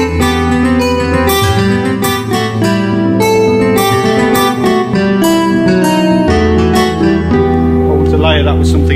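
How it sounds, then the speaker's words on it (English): Nylon string acoustic guitar patch on a Korg Kross keyboard, plucked notes and chords ringing loud and close for several seconds, with each note decaying before the next. "nice nylon string guitar,"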